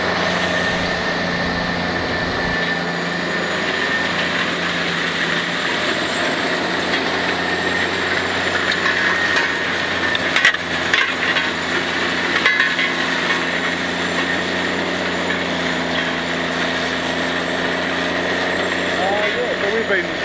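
Grizzly Tiny disc cultivator digging soil about 300 mm deep with worn discs, its engine working near 80% load, a steady loud machinery drone with rattling and clanking that runs throughout.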